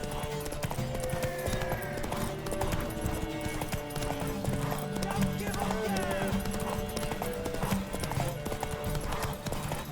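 Rapid clip-clopping hooves gallop steadily in The Witcher 3 under a busy background of music and game sounds, with a horse whinnying along the way.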